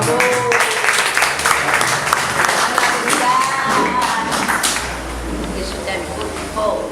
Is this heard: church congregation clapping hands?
yes